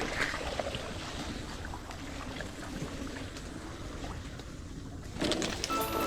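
A wooden rowboat glides slowly across a lotus lake at sunset, with soft steady water wash and breezy ambience throughout, rising a little louder near the end.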